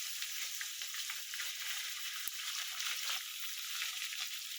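Grated onion goes into hot oil tempered with cumin and bay leaf, giving a steady, dense close-up sizzle with a small clink partway through and no talking.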